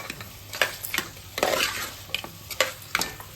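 Mutton curry with ginger frying in a pan, stirred in quick bursts of scraping and clinking over a steady close sizzle, with no one speaking.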